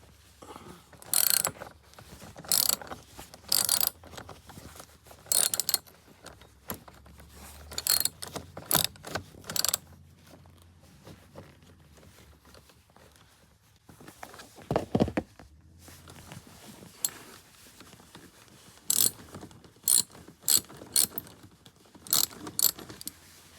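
Ratchet wrench working a bolt loose on a BMW E21 during rust repair, heard as scattered bursts of quick metallic clicking separated by quiet pauses, fairly close with no talk.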